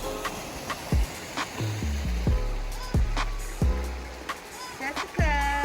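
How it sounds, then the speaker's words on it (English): Water gushes steadily outdoors on a nature outing near Los Angeles, making a constant rushing wash under several other sharp sounds and what may be voices. "The sound of that gushing water is so refreshing"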